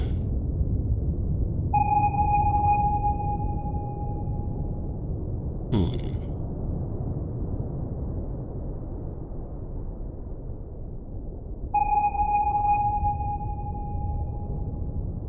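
Two long active sonar pings from a Royal Navy Trafalgar-class submarine, about ten seconds apart, each a steady high tone that rings and fades over a low rumbling background, with a brief sharp click between them.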